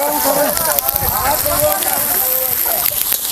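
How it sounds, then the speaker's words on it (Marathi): Sliced onions sizzling and crackling in hot oil in a large pot over a village wood fire, a steady close frying hiss throughout with a voice talking over it. "बघा पूर्ण लालसर रोजपर्यंत आपण हे कांदा परतून घेऊया"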